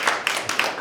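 Brief burst of audience applause at a community roast event, a crowd clapping steadily and fairly close for under a second with no voices over it.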